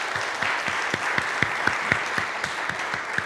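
Audience applause at a streamed church service, a smattering of claps with a few distinct sharp hand claps standing out in an irregular rhythm, moderately loud and brief.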